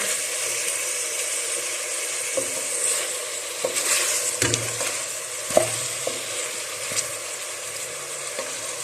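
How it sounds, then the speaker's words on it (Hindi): Mutton and onions frying in a karahi with a constant loud sizzle, broken by occasional stirring scrapes and clanks of a utensil against the pan. "अब प्याज डाल के भी हमने थोड़ा सा इसको भूनना है। ताकि प्याज थोड़े से हमारे सॉफ्ट हो जाए।"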